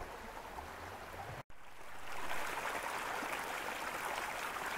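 Small mountain streams running with snowmelt in the highlands, a steady close wash of flowing water that swells slightly partway through, with no talking.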